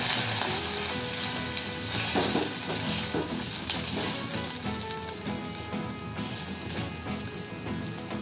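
Vermicelli upma is stirred in a pan after hot water goes in, giving a steady, close wash of bubbling, sizzling and scraping that carries on without talk.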